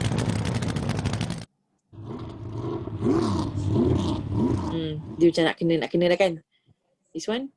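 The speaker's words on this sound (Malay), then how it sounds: "So kita cari suara bunyi macam ala-ala sport car lah." A sports car engine revs with a sustained, full roar from a GarageBand Apple Loops sound effect, cutting off abruptly before people talk over short playback bursts.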